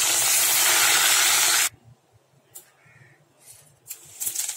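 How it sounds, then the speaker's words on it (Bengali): A piece of rohu fish fries in oil with a loud, dense hiss that cuts off abruptly partway through, leaving near-quiet with a few faint clinks and soft rustles. "দেখো লাল করে ভেজে নিচ্ছি মাছটা"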